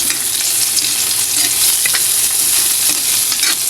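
Garlic, onion and ginger sauté in a hot pan for vegetables with chicken liver, a steady close sizzle and frying crackle with stirring scrapes throughout, no talking.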